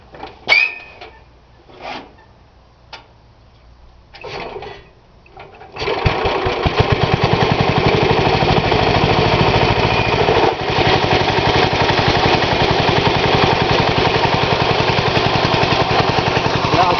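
Rebuilt LME 37 engine starting after a few faint knocks, then running steadily with a fast, even chugging beat that holds loud and close, settling toward idle.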